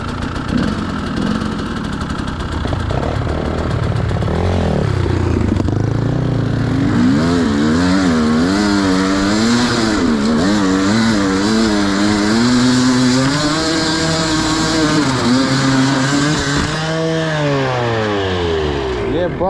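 Engine of a new enduro motorcycle on a winter ride near Lviv runs loud and close, revving up and down repeatedly in wavering surges over a steady idle.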